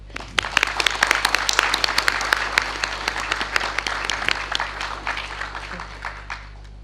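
Sustained applause from an audience at a university honorary ceremony in Bangkok, following a thank-you speech by a professor; dense, steady clapping that is fairly loud throughout and tapers slightly toward the end.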